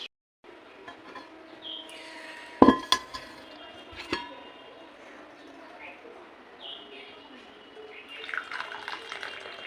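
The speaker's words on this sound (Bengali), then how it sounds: "চলো চাটা ছেঁকে নিই এখানে নিয়ে চলে এসেছি চা ছেঁকে নিই চলো" Milk tea is strained into cups in a home kitchen, with a thin liquid trickle, metal clinks of the strainer and utensils, and a sharp clatter near the middle. Birds chirp faintly in the background.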